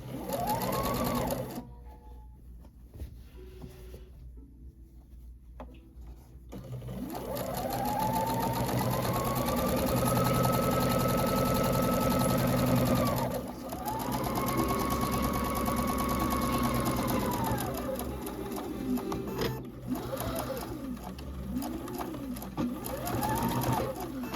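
A sewing machine runs a half-inch stitch around the outside edge of a fringed rag quilt, with long steady whirring runs broken by brief pauses and short bursts near the end, close and clear with faint background noise.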